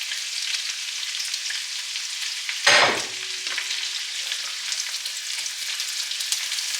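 Onion sautéing in lard sizzles and fries steadily in a hot pan, with a sharp burst of crackling about midway as more goes in, then a continuous hiss with no talking.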